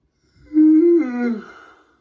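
A single drawn-out yawn, voiced and rising then sliding down into a breathy exhale, close and fairly loud.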